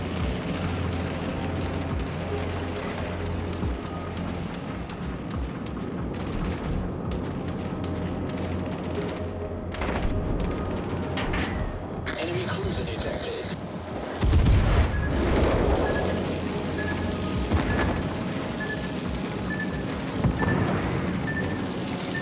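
Warship cannon fire in the video game World of Warships: Legends, heavy booming salvos and rapid gunfire rolling continuously over a dense battle din, with a louder blast burst partway through.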